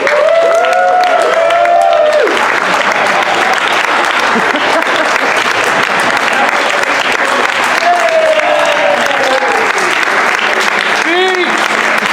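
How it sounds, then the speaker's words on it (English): A big round of applause fills the room, constant loud clapping mixed with cheers and a few raised voices throughout. "Big round of applause, everybody!"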